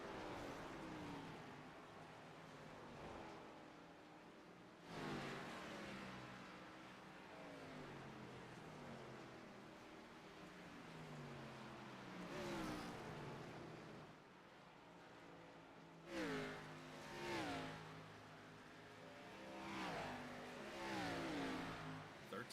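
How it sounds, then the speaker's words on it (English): Race cars in a NASCAR Xfinity Series sim race at Phoenix, engines rising and falling through repeated downshifts into corners, with steady engine drone throughout and sharper revving bursts near the end. "both downshift into third through the corners"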